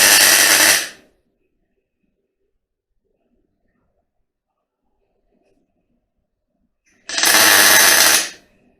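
A power tool cutting exhaust pipe for a 1963 turbo Volkswagen Beetle gives two short, loud, harsh bursts, one at the start and another several seconds later, with near silence between them.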